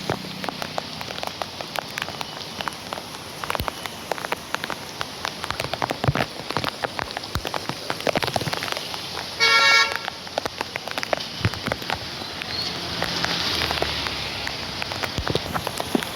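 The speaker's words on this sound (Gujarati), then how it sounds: "તો ફૂલ વરસાદ પડે છે." Heavy rain pours down and patters on a surface nearby at Valinath Chowk, with scattered sharp drips and a brief car horn toot partway through.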